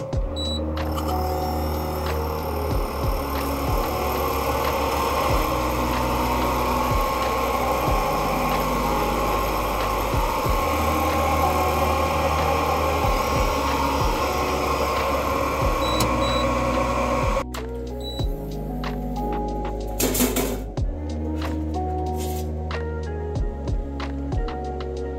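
An xTool laser cutter cuts a plywood back cover for a wooden notebook, giving a steady mechanical hum and whir with fan noise, continuous for most of the run, then a shift to lighter motor movements near the end.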